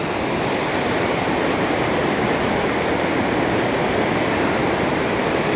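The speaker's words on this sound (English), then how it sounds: "Water comes down there." Goose Creek Falls pours down in a steady, dense roar of falling water, loud and close, with no break or voices over it.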